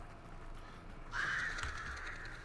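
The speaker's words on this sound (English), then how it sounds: "Bird's there." Crows cawing in the game Hunt: Showdown, a rising burst of harsh caws and flapping that starts after a quiet moment and carries on briefly, fairly close and clear.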